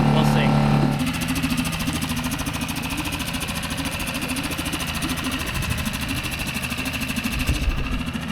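A Honda outboard motor mounted on a boat transom idles steadily, a close, even engine drone after a brief louder opening moment, with faint voices talking underneath.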